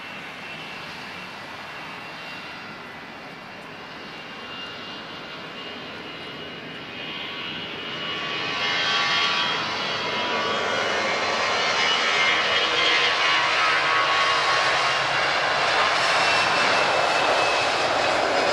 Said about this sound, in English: That was a very noisy Finnair.